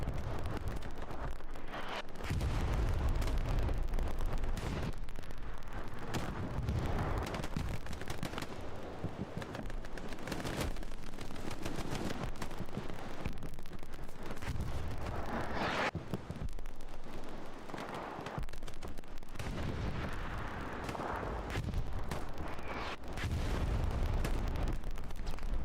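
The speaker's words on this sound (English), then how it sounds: "But look at that artillery coming down," An artillery barrage in Hell Let Loose, repeated heavy booming blasts and rumbling impacts mixed with bursts of distant gunfire, loud and continuous throughout.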